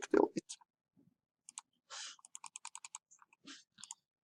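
Computer mouse clicks while deleting mates in an assembly design program, a scattered run of light, crisp close clicks at irregular spacing, with no talk.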